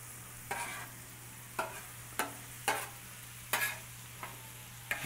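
Butter melts over candied sweet potato yams on a Blackstone griddle, giving a steady low sizzle broken by about seven sharp scraping bursts of a spatula. No one speaks.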